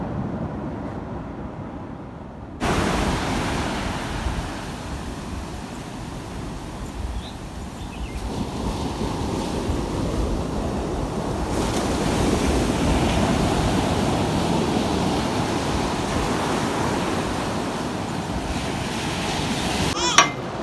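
Ocean surf washes onto a beach with a steady roar, swelling louder partway through, mixed with wind buffeting the microphone and no talk heard.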